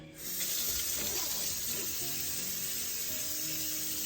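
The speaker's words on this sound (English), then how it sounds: "So what I do is I first take super hot water" Steady broadband rush of hot water running from a tap, continuous and fairly loud throughout, with faint clinks and hum underneath.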